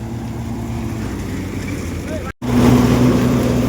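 A tractor-driven groundnut thresher runs with a steady, loud mechanical drone; a brief dropout interrupts it before it resumes slightly louder and heavier, as if under load, with a voice speaking over it.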